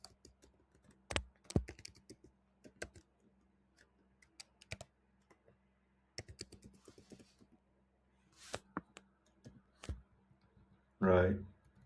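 Keys on a computer keyboard tapped in short scattered bursts of clicks while a customer name is entered at checkout, fairly close and moderately quiet, ending with a louder burst of noise.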